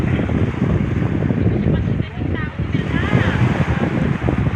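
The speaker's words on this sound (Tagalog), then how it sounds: "Ayan, ang mahangin." Steady, loud wind rushing and buffeting against the microphone outdoors at the seaside, with a faint voice briefly heard under the gusts.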